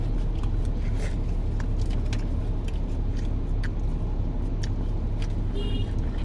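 Inside a car during a meal, a steady low cabin rumble runs throughout, with occasional light clinks and rustles from the food.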